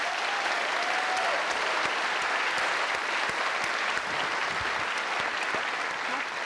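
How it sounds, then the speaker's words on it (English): At a sports awards event, a large audience claps in a sustained, even round of applause, dense and moderately loud throughout. "let's give them another round of applause here"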